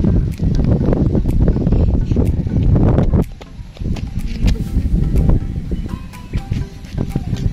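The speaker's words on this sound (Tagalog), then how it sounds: "Ang lakas ng hangin." Strong wind blows outdoors at a kite-flying spot in San Juan, Batangas, buffeting the microphone with a loud, low rumble that dips briefly and then returns, with faint voices mixed in.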